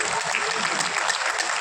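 Audience applause in the Bapu auditorium during a gathering for rural doctors, a full, dense burst of clapping that fills the hall steadily for a moment, with faint voices mixed underneath.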